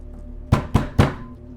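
Three heavy knocks on a door in the video game Fears to Fathom: Woodbury Getaway, evenly spaced thuds that land close and loud, each with a short boomy decay, and no voices.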